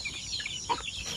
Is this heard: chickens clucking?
yes